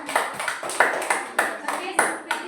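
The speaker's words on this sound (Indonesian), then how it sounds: "ya kita tepuk tangan untuk kelompok 1." Students in an Indonesian-language classroom applaud the first group after its presentation, a steady rhythmic run of roughly eight sharp, fairly close claps in even unison beats with no voices over them.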